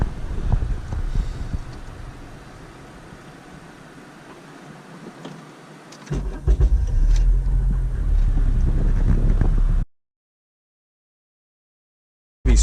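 Steady engine and road noise from inside a Honda car driving with an electric power steering fault, with a low rumble and wind buffeting that grow louder partway through before the sound cuts out.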